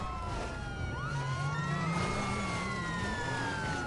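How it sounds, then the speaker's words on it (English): A wailing emergency vehicle siren sweeps up and down steadily through the whole stretch, heard inside a truck over a constant rumble of road and engine noise. "Listen to my siren. It's sad."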